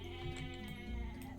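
A sheep bleats in the Age of Mythology Retold strategy game, a short wavering bleat heard over a constant layer of game music and ambient sound.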